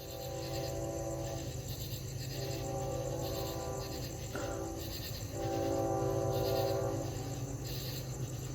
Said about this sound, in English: there's definitely a train coming